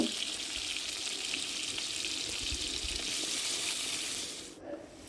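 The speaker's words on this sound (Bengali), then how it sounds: "আলুগুলো আমি মাঝারি সাইজের কেটে নুন হলুদ দিয়ে ভেজে নেব।" Medium-cut potatoes with salt and turmeric frying in white oil in a kadai, a steady bright sizzle held throughout and fading slightly near the end.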